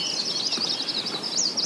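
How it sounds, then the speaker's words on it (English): A continuous wash of many birds singing along a Vermont river, high overlapping chirps and trills blending into a steady chorus with no single voice standing out. "It's not like there's a bird song here and a bird song there. It's just this kind of wash of sound."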